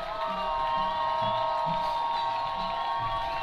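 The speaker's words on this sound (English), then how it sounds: "Warrior crowd making some noise," A high school football crowd cheers and shouts at a distance, a steady roar with a high whistle-like tone running through it and occasional voices rising above the noise.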